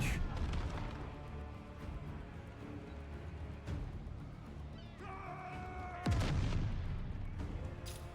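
Heavy cannon fire in the pirate city builder game Corsair Cove, a dense series of booming artillery blasts rolling over one another, with a sharp louder impact near the end and faint voice in the mix.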